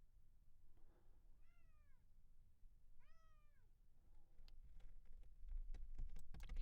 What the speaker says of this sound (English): Sorry, it's my cat.